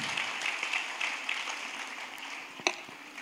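A church congregation applauds the worship team, a dense, steady wash of clapping from many hands that fills the room, fading slightly toward the end, with one sharp louder knock near the close.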